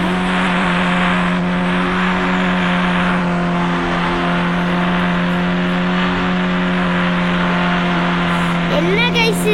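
A car engine drones steadily in a video game, with a constant low hum and hiss that ends in a brief squeal near the end.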